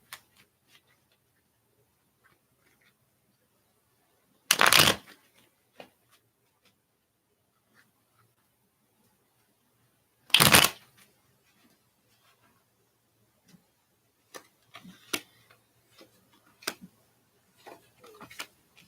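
Tarot cards are shuffled in two brief, loud riffling bursts, separated by silence and followed by soft scattered taps and clicks of cards being handled.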